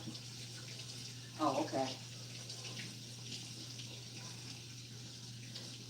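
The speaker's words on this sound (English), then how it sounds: "I ran it under the hot water." Hot water runs from a kitchen tap as a steady, faint rush of flowing water beneath a continuous electrical hum, with a short burst of nearby speech partway through.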